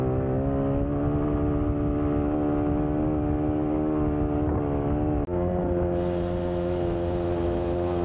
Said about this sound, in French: tu mets ton poids sur l'arrière de la moto et tu mets du gaz